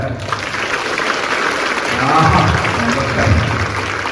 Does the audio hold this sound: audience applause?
yes